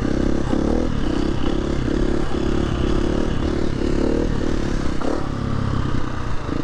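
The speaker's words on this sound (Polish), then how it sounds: "KTM mi tak fajnie buczy." A KTM motorcycle engine hums steadily while riding, a continuous low drone with a faint rhythmic pulsing, close and fairly loud, with no voices.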